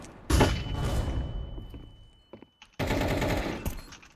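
AK rifle gunfire in a shooter video game: a loud burst of rapid automatic shots, a pause with a couple of thuds, then another sustained burst.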